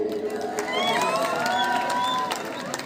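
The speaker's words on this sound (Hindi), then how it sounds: "जोरदार तालियां बेटा इनके लिए" A crowd of students at a school prize distribution for U-19 boys' zonal tournaments claps and cheers, a dense wash of applause with shouts and whoops rising and holding steady, loud and close, with some voices calling out.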